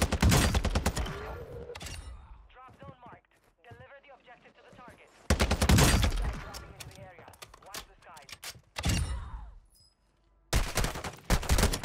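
Rapid bursts of automatic gunfire in Call of Duty Warzone with a Kastov 74u rifle, loud and close, broken by short pauses, with a player talking between volleys.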